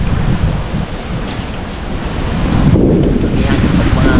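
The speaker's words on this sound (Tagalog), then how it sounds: "Grabe hangin." Strong wind roars over open water on a coastal fishing outing, buffeting the microphone with a loud, continuous rush that swells further in the second half, with faint surf beneath.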